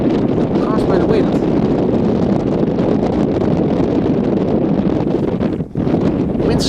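Strong, steady wind buffets the microphone outdoors at Amsterdam Schiphol Airport, a loud continuous roar and rustle that barely lets up, with a brief dip near the end.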